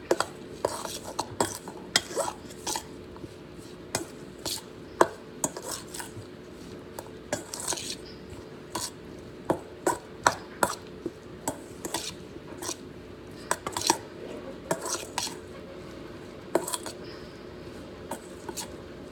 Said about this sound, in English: Just gonna mix this up.